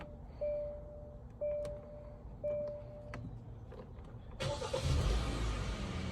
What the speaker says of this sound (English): after 20 minutes we are going to start the car